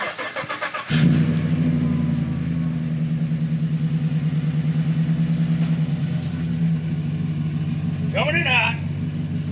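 A truck engine starts and drives up, a steady loud mid-pitched engine drone holding for several seconds close by, with a brief voice near the end.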